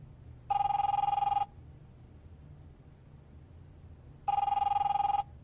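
A telephone rings twice in The Wolf Among Us video game, each ring a bright electronic trill about a second long separated by a few seconds of low background hum, with no talking.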